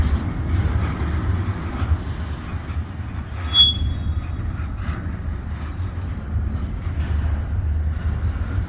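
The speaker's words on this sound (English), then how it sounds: "This is a long train." A long freight train rolls past with a low, steady rumble of wheels on rails and occasional faint squeals, continuous for nearly nine seconds.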